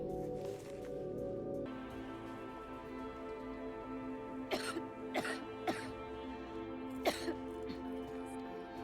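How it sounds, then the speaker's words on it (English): Several sharp coughs from a character in the Silent Hill 2 remake video game, spaced a second or so apart, break through a steady bed of sustained musical tones. "Better do something about that cough."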